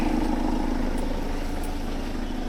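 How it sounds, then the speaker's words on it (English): A 2012 Vauxhall Movano camper van engine idles close by, a low even rumble with a faint hum that holds without change throughout. "that's the engine"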